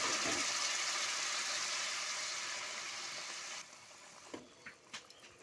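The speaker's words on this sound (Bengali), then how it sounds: "এরপর এর মধ্যে আমি দিয়ে দেব গরম জল।" Hot water pours into a pan of chicken curry masala with a steady rushing hiss that eases off after a few seconds, followed by a few light bubbling pops.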